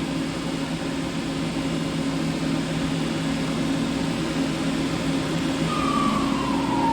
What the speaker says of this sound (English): I'm going to crank it up to 750 RPM.